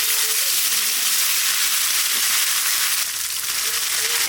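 Cumin, ginger and coriander paste frying in hot oil, giving a steady, close, unbroken sizzle and hiss that holds evenly for several seconds with no voices.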